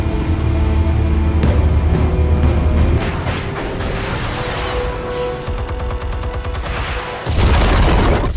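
Explosives go off in Batman: The Telltale Series, heard as a heavy, continuous booming roar with crackling bursts and a dip before a final loud surge, with no talking.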